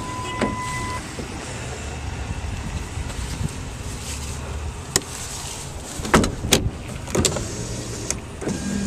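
A 2008 Ford F-150 with a locking tailgate runs its power window motor in a steady whir, followed by several sharp clicks and thumps of switches and door hardware nearby.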